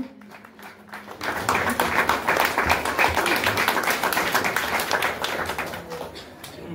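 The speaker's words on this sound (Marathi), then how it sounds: "एकदा जोरदार टाळ्या होत्या" Applause for a prize winner at a village Dussehra lottery event, rising suddenly after a quiet moment and holding as a dense, steady wash of clapping from the crowd.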